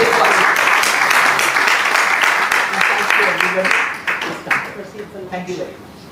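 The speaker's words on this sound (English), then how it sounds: "So I think we should, one round of applause" An audience at a book launch claps, a dense burst of applause that fades over the last couple of seconds into scattered claps.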